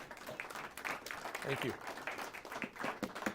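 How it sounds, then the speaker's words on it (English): Soft audience applause for the judges at a school competition round, with scattered clapping that swells and holds, heard from a distance under a brief spoken thanks. "Give our judges a round of applause, please."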